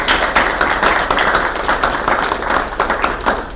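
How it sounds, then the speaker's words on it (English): Applause at a Saugerties school board meeting for a student standing to be recognized, a moderate crowd of individual hand claps, steady and fairly close, with no talk. "Let's give her a round of applause."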